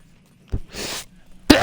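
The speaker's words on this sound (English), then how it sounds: "I gotta sneeze." A single close sneeze bursts out after a short nasal intake, a sharp broadband blast following a brief throaty onset, then a second abrupt burst at the end.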